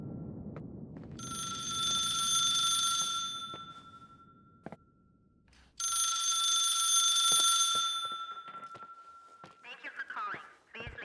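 A telephone in The Suicide of Rachel Foster rings in two long electronic bursts separated by a pause, clear and close, with quieter handling noises, clicks and brief speech around them.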